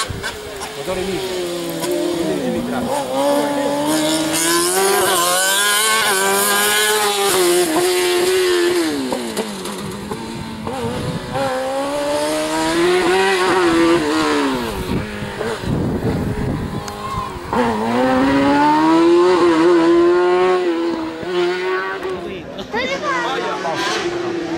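A 1000 cc race car engine revs hard during a hill-climb race, a loud, continuous whine that rises and falls through the gears, with voices talking over it.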